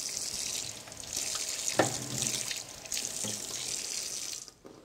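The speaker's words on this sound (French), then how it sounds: "La petite astuce, c'est de passer sous l'eau chaude la lame de mon couteau." Hot tap water runs steadily into a sink while a knife blade is rinsed under it, a continuous close splashing hiss with slight changes as the blade moves through the stream, fairly quiet, before the flow stops near the end.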